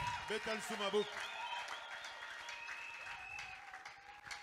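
A Sunday church congregation at an Easter service clapping and cheering, with applause and voices rising and swelling through the room while someone speaks over the top.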